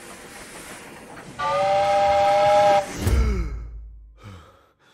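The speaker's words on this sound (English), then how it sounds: "A whistle." A loud, piercing steam train whistle sounds a sustained harmonic tone for over a second, then cuts off into a low rumbling chug that fades.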